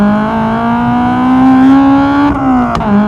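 A loud Spoon aftermarket exhaust on a Honda Civic Type R EP3 drones steadily at idle, rising slightly in pitch before a brief dip and blip near the end.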